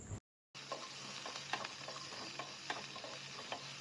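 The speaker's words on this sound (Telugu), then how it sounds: "ఇప్పుడు అదే ప్యాన్లో కొంచెం ఆయిల్ వేసుకొని మనం పక్కన పెట్టుకున్న ఆనియన్ అలానే క్యాప్సికమ్ వేసి వేయించండి" Onion and capsicum fry in a little oil in a pan, a soft continuous sizzle with occasional stirring scrapes and light clinks, heard alone after a brief gap at the start.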